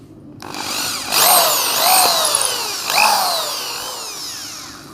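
A power drill whines up and down in pitch as it bores holes, with two main bursts of drilling, loud and close.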